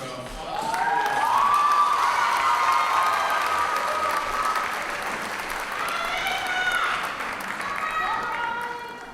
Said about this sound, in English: one big round of applause for our